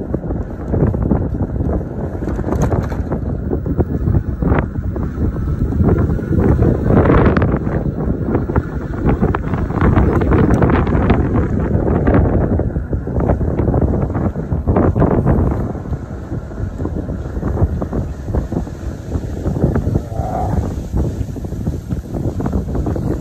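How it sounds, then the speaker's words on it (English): Strong wind buffets and rumbles into a microphone outdoors along a roadside during an e-bike ride, a loud continuous roar with gusting bursts throughout and no talking. "the wind is blowing, the wind is ruffling harder than I thought it was going to be"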